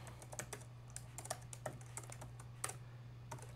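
Typing on a computer keyboard while writing Python code, a quick irregular patter of soft clicks at close range over a steady low hum.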